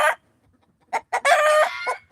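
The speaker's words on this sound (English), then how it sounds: "I have 33 chickens" Backyard chickens cluck in short, loud, close bursts, followed by a longer crowing call, all without any talking.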